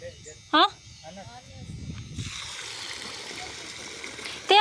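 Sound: water flowing from motor pump into field

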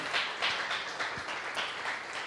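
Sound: congregation applause

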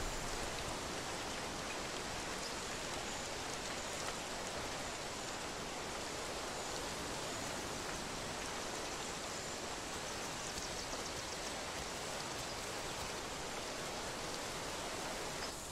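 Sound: rain

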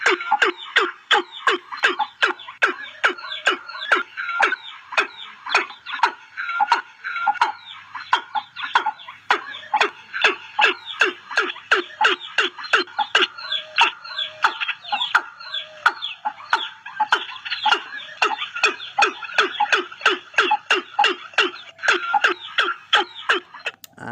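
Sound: watercock call

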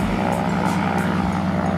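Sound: aeroplane taking off on Kawau Island

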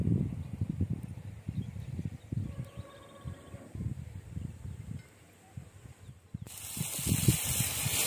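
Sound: onion frying in oil on a wood-fired stove

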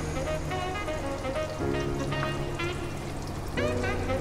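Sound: aloo kebabs frying in hot oil

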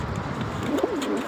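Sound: fancy pigeons cooing in breeder colony

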